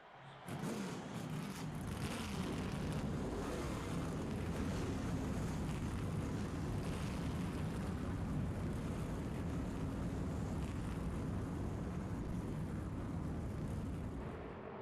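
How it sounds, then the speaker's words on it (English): Stock car engines fire up at the start of a race in the NASCAR Thunder 2003 video game, building quickly into a loud, sustained, low rumbling roar that holds steady for the whole stretch. "Gentlemen, start your engines."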